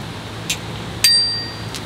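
A bell on a Rattan LM750 folding e-bike, two quick metallic dings: a brief tap, then a brighter ring that hangs and fades, with a faint third tick after.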